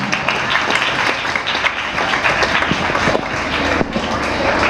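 Audience at a school annual day celebration applauds prize-winning students, a loud, dense wash of clapping mixed with crowd noise that holds steady throughout.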